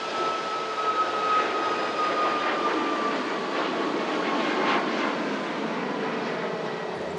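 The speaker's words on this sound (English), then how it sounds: "Last commercial flight to Fuerteventura, lining up now" A Boeing 757 airliner lines up for takeoff to Fuerteventura at Manchester Airport, with a thin, steady engine whine and a soft, distant spooling hum, fairly quiet and unbroken throughout.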